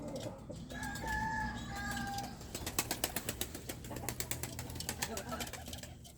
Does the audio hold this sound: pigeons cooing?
yes